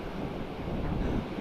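Waves wash onto a beach shore near the water, a low continuous surf rumble mixed with wind buffeting the microphone, with no talk.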